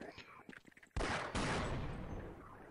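Gunfire in the video game Half-Life arrives as a sudden loud blast followed by a sustained roaring burst of shots, close and harsh, after a moment of quieter clicking and murmuring.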